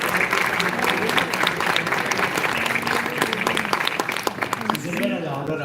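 An audience at a medical quiz claps loudly and continuously for a team, the dense applause thinning toward the end as a voice begins to speak over it.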